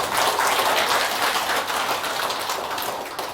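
A church congregation claps in a dense, steady burst of applause that fills the space and slowly tapers.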